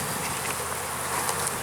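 A dense, steady buzz of many honeybees swarming around a hive close by, a continuous droning hum with no voices.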